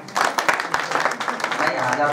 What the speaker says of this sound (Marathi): साऊंड सिस्टीम वाल्या भाऊसाठी टाळी वाजवा बघा